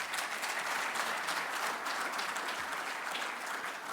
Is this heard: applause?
yes